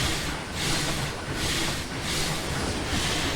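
A locomotive in the Trainz railway simulator hauls a long goods train of fully loaded wagons and flatbeds, giving a steady, dense rumbling roar with faint rhythmic pulses and no talking.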